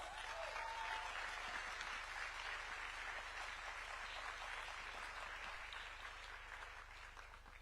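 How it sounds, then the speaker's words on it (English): A large audience claps steadily and warmly, a dense sustained wash of applause that fades slightly toward the end. "We can keep clapping for her until she takes a seat, please."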